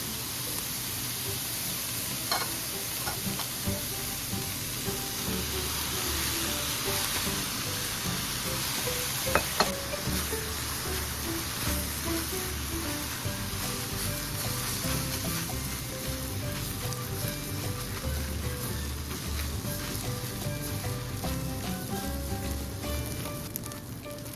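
Rice for pork chao fan hisses and sizzles in a hot pan while being stir-fried, a steady close frying noise with intermittent scraping and clinks of the spatula and a brief louder clatter midway.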